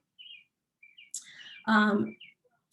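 Several short, high birdsong phrases in a park, likely common yellowthroats staking out territories, with a louder, fuller call near the middle and brief chirps scattered before and after.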